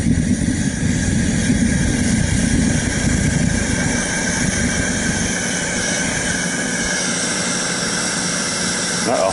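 A foundry furnace firing up gives a loud, steady roaring rumble close by, a dense broadband drone with a faint whining tone above it that shifts slightly toward the end, no talking.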